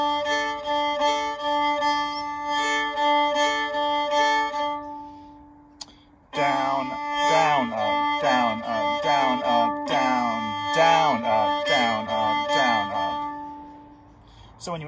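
A fiddle bows a rhythmic shuffle pattern on open strings, rocking steadily between notes, then a brief pause before a busier bowed shuffle continues.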